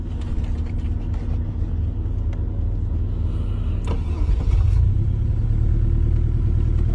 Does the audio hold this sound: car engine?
yes